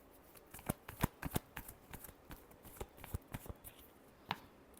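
Tarot cards are shuffled by hand in a final shuffle, giving a rapid series of crisp, close flicks and riffles with uneven rhythm and no voices.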